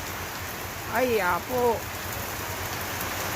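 Steady heavy rain pours down outdoors, a constant dense wash of sound with a brief spoken exclamation over it.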